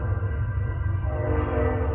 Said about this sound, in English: Let me let the train go by.